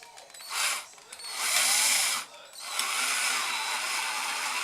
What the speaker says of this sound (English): So now we drill very scarily onto that hole.